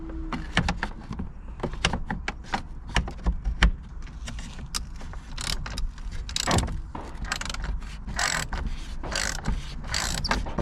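A wrench undoing bolts beneath a Ford Focus, giving close, sharp ratcheting clicks in irregular bursts with brief pauses and occasional metallic knocks.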